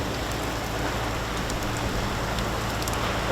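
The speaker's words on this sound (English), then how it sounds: "Raining." Rain falls steadily at a boatyard during a boat haul-out, a close, even hiss with scattered drops and no talking.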